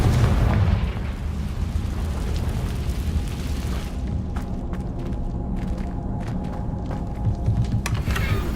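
Confringo explosion spell cast in the video game Hogwarts Legacy: a loud, rumbling blast at the start that settles into a long, dense roar, with scattered small pops and crackles later.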